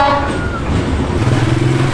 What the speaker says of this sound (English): Here comes the train, you can hear